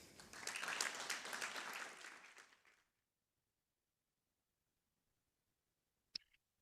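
Audience applause welcoming a speaker to the stage at an education conference, a dense burst of clapping lasting under three seconds that stops abruptly, followed by silence and a single brief click near the end.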